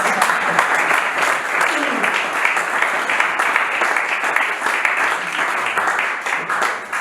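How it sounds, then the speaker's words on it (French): A church congregation applauds loudly and continuously, a dense, even wash of many hands clapping close by, with some voices mixed in. "Je crois que vous allez acclamer pour ça."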